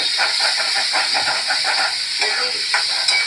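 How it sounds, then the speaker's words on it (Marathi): A paste of ginger, coriander, garlic, onion and coconut fries in oil, giving a loud, steady hissing sizzle with irregular spits and soft stirring scrapes close by, without voices. "अद्रक कोथंबीर लसण कांदा आणि खोबरं वाटण असं तेवढ्या तेलामध्ये परतून"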